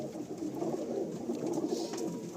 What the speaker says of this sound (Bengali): তো এই টেডি পায়রাও দাদার লফটে প্রায় 100 পিস মতো আছে।